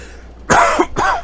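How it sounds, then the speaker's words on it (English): Someone with allergies lets out two harsh, close, loud coughs with a short pause between them, and no speech follows. "I can't even do that without coughing"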